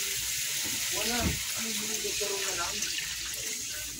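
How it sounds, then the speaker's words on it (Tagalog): Water poured into a pan of frying pancit bato, a close splashing gush over a steady sizzling hiss that lingers to the end. "lagyan na natin ng tubig"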